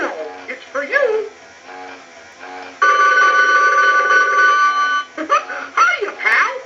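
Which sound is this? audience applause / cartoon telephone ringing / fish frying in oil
cartoon telephone ringing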